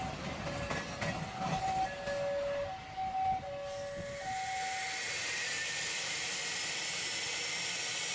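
A cargo freight train rolls past with a steady broad rumble and hiss, and a loud siren-like horn blasts several sustained tones early on before the wagons carry on alone.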